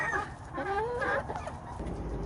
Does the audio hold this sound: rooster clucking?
yes